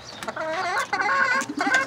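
Hens cluck and cackle nearby in quick, overlapping bursts, a busy and fairly loud chorus of chickens.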